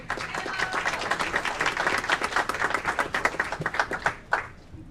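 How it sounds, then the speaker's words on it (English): Audience applause at the Aurora City Council meeting, a sustained burst of many hands clapping in a room that thins out and ends with a few scattered claps. "Give Katrina a round of applause."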